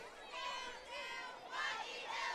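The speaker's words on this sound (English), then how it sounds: "This Dragon crowd looking for something to cheer about. It's a good crowd tonight." The home Dragon crowd at a Junction City vs Hampton high school football game keeps up a constant roar of mingled voices, shouts and chatter, rising in swells from moment to moment.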